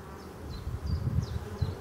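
Black honey bees, spring workers, buzz at the hive entrance, a close, loud, rising and falling drone with wingbeat swells and a few passing flybys.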